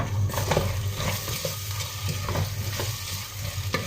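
A spoon stirs an artichoke dish with chopped dill in a hot pan, a loud steady sizzle broken by repeated scraping strokes, close and with no talk.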